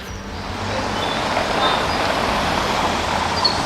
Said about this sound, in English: Still used, still traffic goes underneath it.